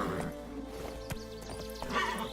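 The horse Roach galloping in The Witcher 3, with a rapid, rhythmic patter of hoofbeats over steady game ambience and a faint whinny-like tone, moderately loud and continuous.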